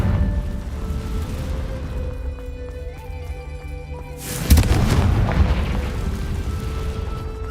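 The Confringo fire spell in the video game Hogwarts Legacy goes off as one deep, booming explosion about halfway through, rising over a low rumbling game ambience that keeps going afterward.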